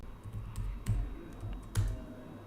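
Keys on a computer keyboard tapped in a few scattered, uneven strokes at moderate distance, with a low background hum and no talking.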